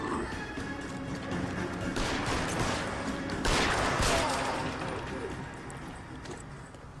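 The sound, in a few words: gunfire in the video game L.A. Noire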